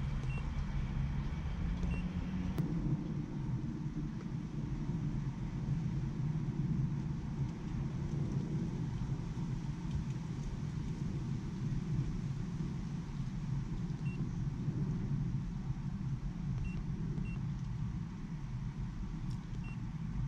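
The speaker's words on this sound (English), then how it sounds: "And I'm gonna take it out for a test drive." Cabin noise from a Mercedes-Benz C300 (W204) on a test drive after an intake manifold replacement: continuous low engine and tyre rumble throughout, with a few faint high beeps.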